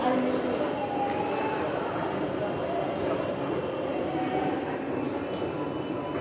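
Qatar metro train in a station, a steady rumble and hiss of the train and platform noise running throughout, with faint tonal whines, under a continuous busy background.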